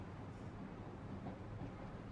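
Inside a moving passenger train in a film scene, a steady low rumble of the carriage, fairly quiet and unchanging, with no voices.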